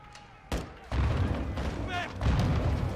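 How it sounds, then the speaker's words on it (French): Grenade explosions in Call of Duty Modern Warfare 2, a sharp blast followed by heavy booming rumbles and rolling gunfire, loud and close, with a player talking over the action. "Ils lancent des grenades."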